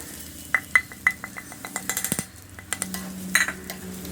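A spatula clatters and scrapes in a pan as crumbled fish is stirred into sautéed onions, a run of sharp metallic clinks and scrapes over a low sizzle, close up with no talking.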